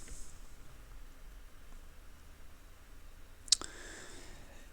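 A single sharp computer mouse click on a security option while setting up a Binance account, heard close against a quiet hiss of background noise, with no talking during the click.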